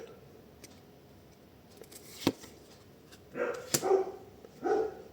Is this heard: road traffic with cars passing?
no